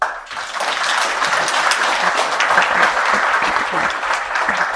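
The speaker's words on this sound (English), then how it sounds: "A round of applause" A room full of people at a conference panel discussion applauds steadily, a loud sustained wash of clapping with a few cheers mixed in.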